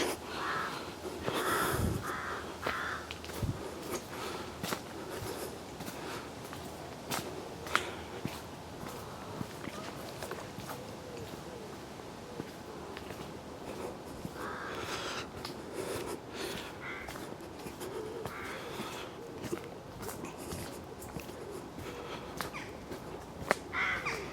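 Crows caw intermittently over a steady outdoor hiss, with footsteps crunching along close by; the calls are moderate and scattered throughout.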